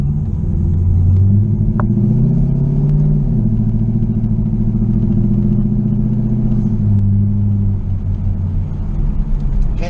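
A car drives at light throttle after an HD2 shift kit and servo install, with a steady engine rumble whose pitch rises and then drops at gear shifts, close and continuous.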